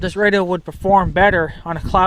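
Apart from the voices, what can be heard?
No everyday noise stands out behind the speech.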